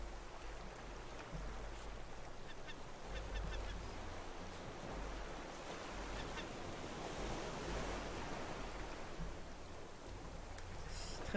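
A seabird in the survival game Raft squawks and honks over a steady wash of ocean waves, with no talk, the calls mixed into the constant surf.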